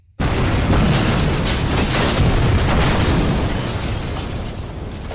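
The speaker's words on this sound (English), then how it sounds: "And the winner for most gratuitous explosion is Little Women, Joe March's revenge." A big cinematic explosion from a spoof movie scene erupts suddenly and loudly after a brief silence, then keeps rumbling and crackling as a dense roar that fades only slightly over several seconds.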